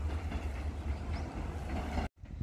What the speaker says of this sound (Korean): 1944 열차는 이제 포항을 향해 갑니다.